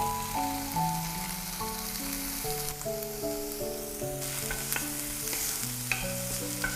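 Onions with a fenugreek tempering fry in olive oil, giving a steady close sizzle with frequent stirring scrapes and light clinks of a utensil against the pan, and no talking.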